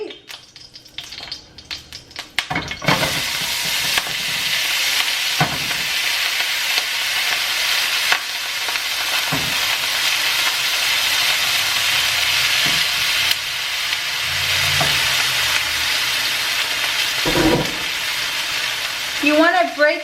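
Ground beef sizzles and fries steadily in olive oil in a hot skillet for shepherd's pie, a loud continuous crackle broken by occasional scrapes and knocks of a utensil against the pan.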